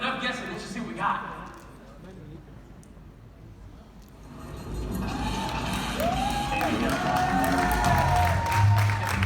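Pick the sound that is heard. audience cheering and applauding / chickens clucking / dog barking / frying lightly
audience cheering and applauding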